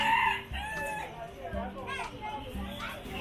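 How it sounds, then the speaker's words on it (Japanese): Live chickens for sale at a Taiwan market, roosters crowing and hens clucking in repeated overlapping calls, close and busy, with market chatter and children's voices mixed in. "生きたままの鶏が売られている。"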